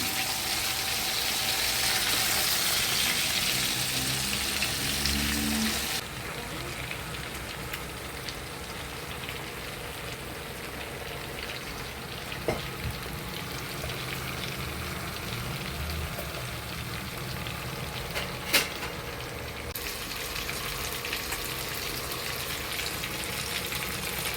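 Village-style murrel fish fries in a pan with a dense, steady sizzle. The sizzle is loudest for the first several seconds, then settles into a quieter, continuous crackle with a few sharp pops.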